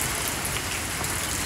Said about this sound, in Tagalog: At umuulan na naman dito.